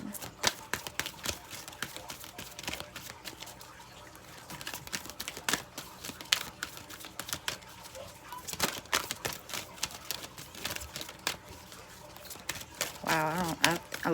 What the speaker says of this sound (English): this is my third time shuffling